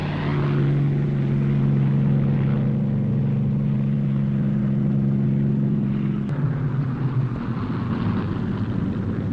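A Hawker Sea Fury fighter's piston engine roars loudly at full throttle for takeoff from a carrier flight deck, a steady droning propeller note that shifts and drops in pitch partway through.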